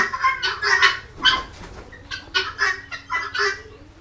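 Guinea fowl on a farm give harsh, rhythmic cackling calls in repeated bursts, close and loud, with a low steady hum underneath and no speech.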